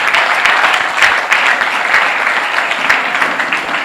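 Church congregation clapping and cheering for the Lord, dense loud applause filling the room steadily throughout with scattered voices mixed in.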